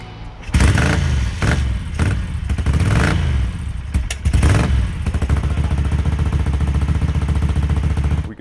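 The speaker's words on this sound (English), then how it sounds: "We can see the engine was running and running perfectly, in fact." A restored 1979 900 Replica motorcycle engine fires up and runs, loud and close, with a few sharp revs and clattering bursts early on before settling into a steady, even idle.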